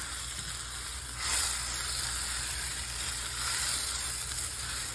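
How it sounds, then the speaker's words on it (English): Beef patties for Big Mac–style tacos fry in an oil-slicked pan, giving a steady, close hiss of sizzling fat that swells louder partway through and holds without pause, with no talking. "once that's done frying, a couple minutes on one side, we're gonna flip it and cook the other"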